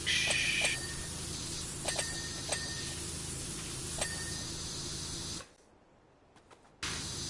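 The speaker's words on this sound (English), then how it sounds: "Love the sound of water spraying." Steady hissing spray of high-pressure water from a pressure washer in the video game Power Wash Simulator 2 runs continuously, then cuts out briefly near the end before resuming, with a few faint clicks.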